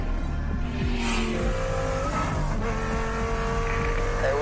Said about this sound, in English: based on the progressive roar of the engine